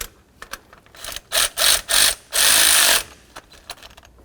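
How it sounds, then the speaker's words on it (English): A torque wrench works on the intake gasket bolts of a Chevy C/K pickup in a short run of ratcheting bursts. Three brief pulls are followed by one longer sweep, all close and fairly loud, with faint clicks around them. "I'm going to torque this in the same sequence to 25 foot-pounds"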